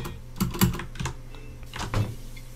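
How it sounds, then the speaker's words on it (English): Keys clack on a mechanical keyboard in a few uneven bursts, close and fairly crisp, over a quiet room with no speech. "Having a mechanical keyboard for recording purposes is, like, terrible."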